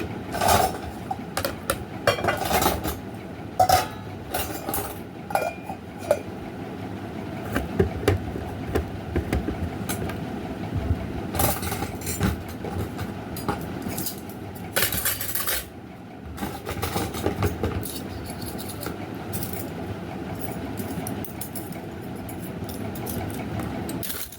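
A wok and pots being handled in a home kitchen, with repeated clanks, scrapes and metallic knocks of cookware and utensils over a steady background and no talking.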